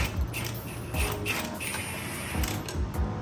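An impact wrench loosens the rear wheel nut on a Honda ADV 150 scooter, giving close, rattling mechanical bursts that repeat in a rough rhythm over a few seconds.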